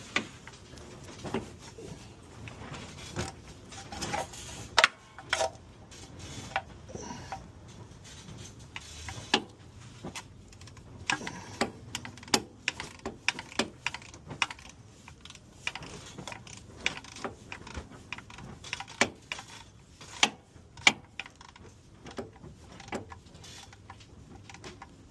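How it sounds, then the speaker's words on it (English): Torque wrench tightening torque converter bolts to the flywheel on a 2007 Ford Mustang 4.0, heard as a long series of sharp, close clicks and metallic ticks, irregularly spaced over quiet shop background. "these bolts are going to be torqued to 18 foot-pounds"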